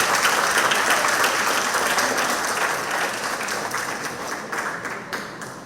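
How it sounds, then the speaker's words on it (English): An audience applauds, a thick wash of clapping that gradually thins and softens toward the end with a few separate claps standing out. "she deserves another round of applause"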